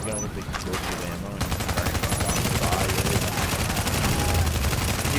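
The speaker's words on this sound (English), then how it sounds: "Like a shotgun with explosive ammo." Shotgun with explosive ammo firing in The Division, dense rapid gunfire with overlapping blasts, loud and continuous, with voices talking beneath the shooting.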